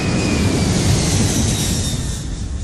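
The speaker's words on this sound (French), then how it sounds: "On prend l'avion virtuel." Airplane sound effect for a virtual flight to New York: a loud, steady jet-engine roar with broadband rushing noise and a faint high whine, sustained evenly throughout with no talking.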